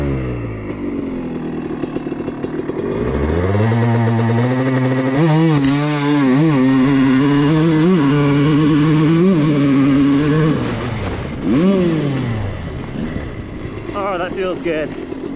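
A Honda CR250 two-stroke dirt bike engine revs loud and close, its pitch climbing and dropping through repeated throttle blips and a gear change, with a bog-down near the end. A rider talks over it at times.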